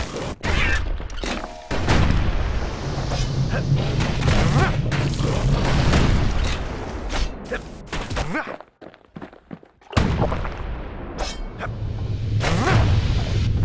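Security skiffs fire on the ship in the game Bastion, sending dense, continuous barrages of shots, booms and thuds that break off briefly before resuming, with voice-like sound layered in the mix.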